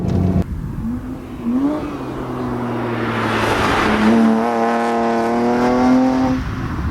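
A BMW 128i drives past with a rising engine note that climbs through the gears, with a smooth exhaust tone and a broad rush of tire and wind noise at the peak.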